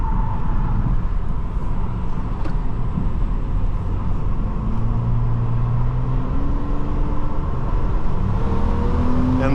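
A 2004 Nissan Maxima 3.5 SE pulls hard from inside the cabin on a road drive. Its engine note climbs steadily over a constant loud rumble of road and wind noise.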